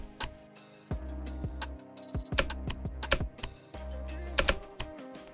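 Keys on a computer numeric keypad tapped in irregular bursts to type layer numbers: about a dozen crisp, close clicks with short pauses between them, with no talking.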